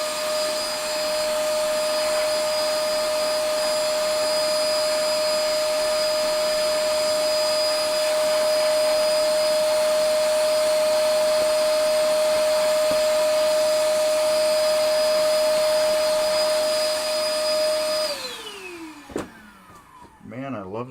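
A new vacuum cleaner runs loud and close with a steady, high motor whine for most of the stretch, then winds down and cuts off near the end.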